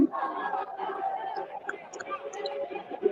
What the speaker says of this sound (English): What they cheering about?